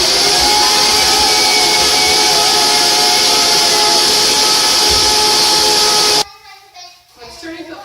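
A blender grinds ingredients into powder for sugar-free truffles, a loud, constant high-speed whirring roar that holds steady for about six seconds and then cuts off abruptly, leaving quieter room sound.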